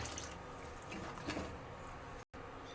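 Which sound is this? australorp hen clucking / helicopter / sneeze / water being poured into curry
water being poured into curry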